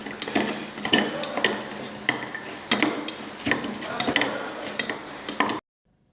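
Spices for chicken biryani, including coriander, turmeric, garam masala and pepper, are stirred into masala in a pot, with repeated scraping and clinking strokes of a spoon against the metal in an uneven rhythm before the sound stops abruptly.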